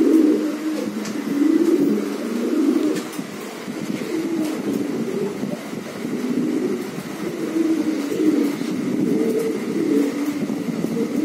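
Giribaz pigeons coo in low rolling waves that overlap and repeat steadily over several seconds, near and moderately loud, with no voices.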